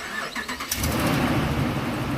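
A 2009 Dodge Ram 2500 truck with a little rust cranks over and its engine catches, settling into a loud, steady low idle close by.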